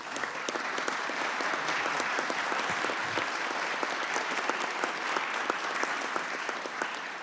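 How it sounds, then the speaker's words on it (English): A hearing room audience gives a round of applause for a committee chairman and ranking member, steady crisp clapping of moderate loudness lasting through several seconds without fading. "ask if maybe the room could give the two of you a round of applause"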